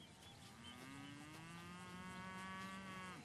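A cow lets out one long, drawn-out moo, rising slightly and holding steady, fairly close and clear over faint outdoor ambience.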